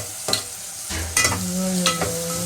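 Tomatoes and onions sauté in a pan for a vegetable biryani, sizzling steadily while a utensil stirs and scrapes in a few distinct strokes, close and loud with no talking.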